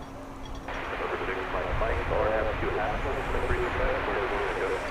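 A Lufthansa Airbus A330-300 from Frankfurt approaches DFW, a faint, distant engine drone held steady beneath someone talking.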